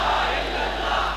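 Large crowd at an Islami Jamiat Talaba Pakistan gathering shouting a slogan together in unison, a dense, loud and sustained roar of many voices filling the space.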